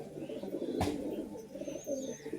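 A high-flying pigeon held in the hand coos softly in a few low, throaty bursts, close and quiet, with a brief rustling knock partway through.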